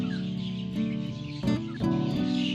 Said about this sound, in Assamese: চাওক ইয়াতে ইমান চৰাই মাতি আছে